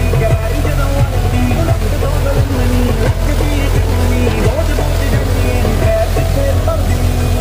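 A Mahindra 575 DI tractor hauls a 14-disc harrow across a field, its diesel engine giving a loud, steady, unbroken drone close by with no talking.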